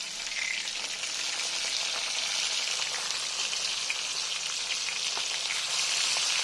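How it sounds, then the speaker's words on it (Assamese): Fish pieces frying in hot oil in a pan for a taro and elephant apple fish curry, giving a steady, even sizzle that crackles continuously throughout. "এতিয়া মই মাছ এক পিঠি লৰাই দিম।"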